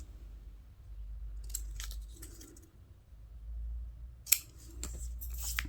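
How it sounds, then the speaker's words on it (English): Scissors snip through junk journal paper, trimming off small bits with a few crisp, close cuts in two separate bursts and a quiet pause between them. "cut those bits off"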